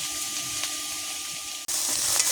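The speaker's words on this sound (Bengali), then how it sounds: "কড়াই আমি পেঁয়াজ দিয়ে দিয়েছি আগে" Onions fry in a wok in a little oil left from frying potatoes, giving a steady close hiss and crackle that cuts out for an instant before resuming slightly louder.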